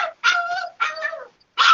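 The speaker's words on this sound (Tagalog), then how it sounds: "Ayan, may asong tumatag" A dog barks and yelps over an unmuted microphone during an online meeting, three loud whining, tonal bursts in quick succession with brief gaps between them, close to the mic.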